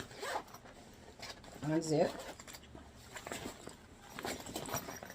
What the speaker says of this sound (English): So I will unzip